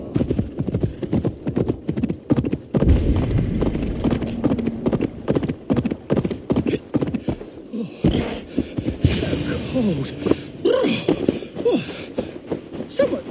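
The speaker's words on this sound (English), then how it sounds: "Patience with the tired horse. Ploddity plod plod." Horse hooves clop along in a slow, steady plodding rhythm, close by, in the video game Assassin's Creed Mirage, with other faint game sounds mixed in.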